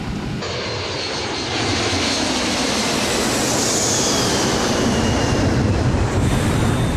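A passenger airliner in a steep emergency descent after explosive decompression, its engines roaring loudly and steadily throughout with a broad, dense rumble and a rising whine, no voices.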